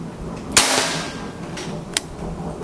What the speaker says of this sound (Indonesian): Dan ini kita coba tembakan pertama